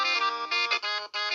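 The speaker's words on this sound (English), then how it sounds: "Let's see this ringing." A Panasonic KX-PRW120 cordless telephone rings with a bright electronic tone in short repeated bursts, loud and close, with no voices.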